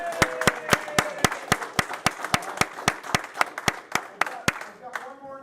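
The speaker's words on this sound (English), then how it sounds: "let's have a round of applause" Clapping at a building authority meeting comes as a regular series of sharp, evenly spaced claps, one or a few people's hands close by, with light voices underneath before it stops.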